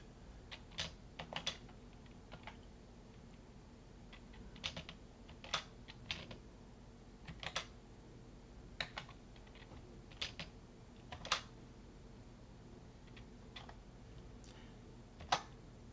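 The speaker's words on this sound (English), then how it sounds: "So we've typed our average in." Faint, sparse keystrokes on a computer keyboard tap out a number entry, scattered irregular clicks over a quiet room hum with no voices.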